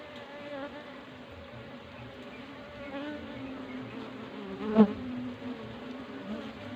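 Honeybees buzz steadily around an opened hive box during honey harvesting, a dense close drone with one bee passing loudly near the listener partway through.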